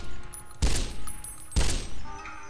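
A modded sniper rifle in Fallout New Vegas fires two separate booming shots, each a sharp burst trailing into a short rumble, set against steady game ambience with no talking.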